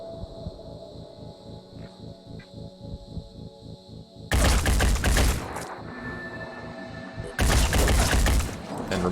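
Gunfire in the Phoenix Point strategy game: two loud, dense automatic bursts of rapid shots, each lasting a few seconds, over a quieter rhythmic game soundtrack.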